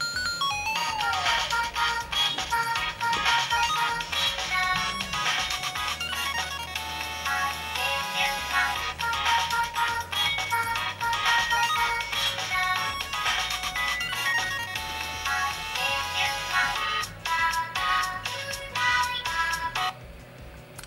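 A Sony Xperia phone's Hatsune Miku edition ringtone plays loud and alone for about twenty seconds, a steady electronic melody of bright repeating synth notes that cuts off near the end.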